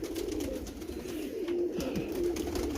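A pigeon coos softly in low, rolling notes over a steady background hum, close by.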